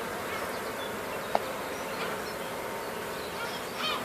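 Honey bees buzz around sealed brood in an open beehive, a dense, steady hum of many insects close by with one brief sharp tap partway through.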